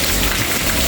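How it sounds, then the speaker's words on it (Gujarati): Heavy rain pours down steadily at home, a dense, loud, continuous wash of drops drumming on surfaces with no gaps or voices. "બાકી આજે વરસાદ જોરદાર પડી રહ્યો છે"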